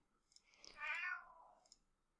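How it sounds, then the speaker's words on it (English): A pet cat meows once, fairly faint and brief, rising and falling in the background of a quiet room, with no talk over it. "apologies if you heard the cat again. He's just being noisy"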